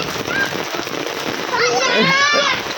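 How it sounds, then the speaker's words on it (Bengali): Steady rain hisses throughout in a village while children playing in the rain shout and talk excitedly nearby. "এত সুন্দর বৃষ্টি পড়ছে"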